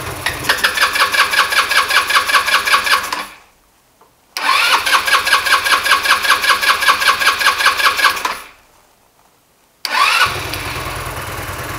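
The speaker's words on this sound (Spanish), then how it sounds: "Ahí está arrancando, acelerando." A car engine with a fuel shutoff fault cranks with a rapid rhythmic starter whir, catches and revs, then cuts to silence; this repeats twice before it starts and runs at a steady idle.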